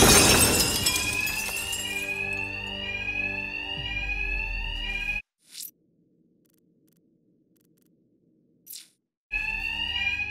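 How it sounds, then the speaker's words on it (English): A bank's fire alarm in Batman Arkham Knight rings with a loud, steady electronic tone after a burst of shattering glass, then cuts out abruptly to near silence with short blips before returning at the end. "these thugs can't hear a thing over the alarms"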